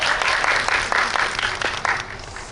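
Audience applause fills a cinema hall at a movie talk event, a loud dense burst of clapping that tapers off over a couple of seconds.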